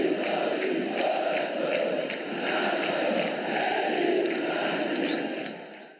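Football supporters in the stands at Curuzu stadium sing loudly through steady rain on a Monday night, a dense, sustained roar of massed voices that fades out at the very end.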